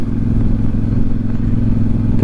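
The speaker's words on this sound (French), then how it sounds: "Petit filet de gaz, peinard, en troisième à 2500 tours, et on repart." A Voge DS 800 X Rally motorcycle engine on light throttle in third gear around 2500 rpm, a steady loud low drone with a throbbing rumble, close and alone.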